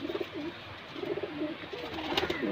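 A golden pigeon coos softly nearby, repeated low burbling calls over a faint background hum.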